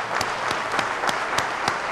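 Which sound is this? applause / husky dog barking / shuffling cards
applause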